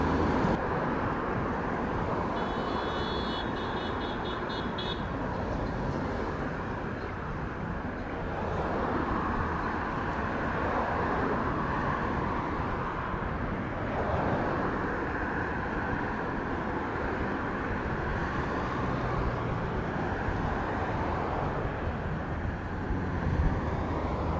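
JetBlue airliner taking off from runway 25 at Montego Bay, Jamaica, a steady broadband jet roar held loud and continuous throughout, with a brief higher whine early on.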